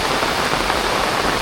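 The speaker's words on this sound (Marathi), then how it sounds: "पावसाला सुरुवात झाली" Steady, dense monsoon rain falls on a Konkan village, loud and close, a continuous even hiss with no voices.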